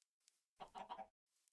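A chicken in the video game Minecraft gives a short, soft cluck, one brief burst with faint chirps before and after, quiet and in isolation.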